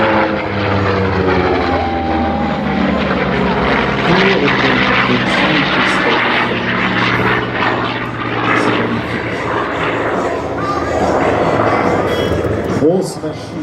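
A Hawker propeller aircraft at the Habsheim airshow drones loudly and steadily overhead for the whole stretch, its engine tone shifting slightly as it passes, with voices talking underneath.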